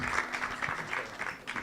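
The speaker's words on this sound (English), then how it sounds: "Big round of applause for him." Applause from a conference audience at an open source event, steady close clapping with rhythmic bursts, moderately quiet and uninterrupted.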